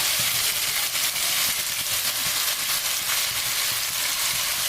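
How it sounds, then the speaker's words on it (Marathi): Cluster beans sizzle steadily as they are stir-fried in a pan with salt and goda masala, a dense, continuous frying hiss with faint scraping of stirring underneath, close and even throughout. "ही सगळी गवार आता मी यामध्ये परतून घेणार आहे"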